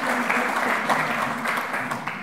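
An audience claps at a talk about Hellerau and the Deutsche Werkstätten, a dense, steady wash of applause held at an even level throughout.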